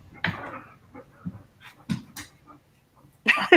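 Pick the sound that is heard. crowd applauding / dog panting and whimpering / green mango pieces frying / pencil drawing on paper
dog panting and whimpering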